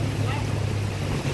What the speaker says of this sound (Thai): ลมแรงปะนี่